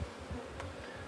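Honey bees hum in a steady, soft, continuous drone at a hive opened for inspection, with no voices.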